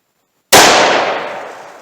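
A single sharp, loud gunshot from a .357 Magnum snub-nose revolver cracks close by at a shooting range after a moment of silence, its report ringing out and slowly decaying.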